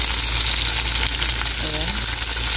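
Onion frying in a pan, a loud dense continuous sizzle heard up close, with a brief clink of a utensil partway through.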